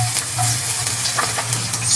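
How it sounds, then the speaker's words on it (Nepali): Chopped onions hit hot oil in a heated pan for a potato curry, giving a steady close sizzle and crackle with a few stirring scrapes, no voices. "अब म काटेको प्याज यसमा"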